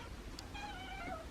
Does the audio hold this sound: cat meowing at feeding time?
yes